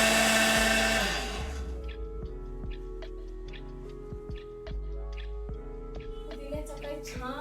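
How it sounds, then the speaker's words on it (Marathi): A mixer grinder whirs loudly while blending coconut, green chillies, lemon, sugar, salt, coriander and mint into chutney, then slows to a lower churning hum with small rhythmic ticks and clatters as the jar contents turn. "आता हे सगळं व्यवस्थित आपल्याला वाटून घ्यायचं आहे."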